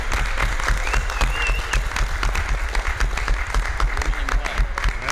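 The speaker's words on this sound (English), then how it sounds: "a huge round of applause to Susan and Tom and Neil" Sustained applause from a UFO conference audience, a dense steady wash of clapping with a low hum underneath, with faint voices mixed in.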